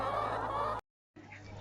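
Chickens clucking inside a farm coop, a steady, fairly faint mix of soft clucks and murmurs that cuts out briefly before resuming at a lower level.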